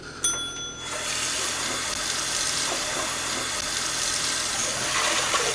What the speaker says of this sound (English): we're going to put our lentils into our cooking pot, and we're going to cover them with the water